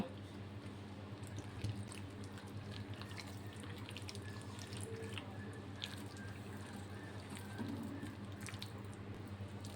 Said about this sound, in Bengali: এবার এটা নর্মাল পানি দিয়ে ভালো করে মাখিয়ে নেব।